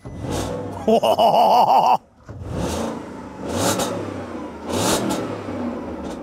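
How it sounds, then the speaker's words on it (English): A car engine with an exhaust blow revs sharply in a few bursts, with a raspy, puffing exhaust note between the revs. "There is also an exhaust blow, so you'll have to excuse that."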